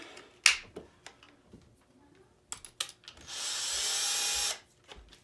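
A power drill whirs loudly for about a second and a half, preceded by scattered clicks and clunks of handling tools nearby.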